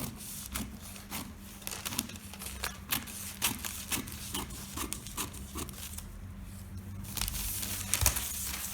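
Scissors snip through a paper sewing pattern piece for a simple peplum blouse, cutting a princess-line section in a run of short, crisp, close cuts with faint paper rustling and a low steady hum beneath.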